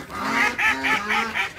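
Home-raised backyard chickens call out in a short, loud run of four or five honking, nasal squawks close by, rising and falling in quick succession.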